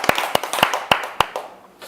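A handful of separate, sharp hand claps ring out in a loose, uneven rhythm, close by and fairly loud, thinning out and fading toward the end with no speech over them.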